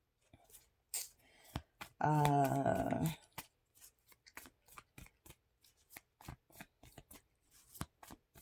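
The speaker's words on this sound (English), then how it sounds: "If you're not into taking time and watching the reader shuffle, you can always fast forward this part." Tarot cards are shuffled in quick, crisp flutters and taps, close and fairly quiet, with a brief voiced moment partway through.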